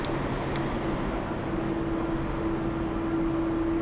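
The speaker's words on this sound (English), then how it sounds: "We have the A330 Discover lining up on runway" Airbus A330 airliner lining up on runway 18 at Frankfurt airport, a steady engine roar with a sustained tonal whine, distant and constant throughout.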